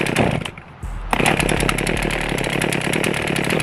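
Small engine fired up and running after a choke start: a brief stumble, then a loud, close, buzzing chainsaw-like drone that holds steady.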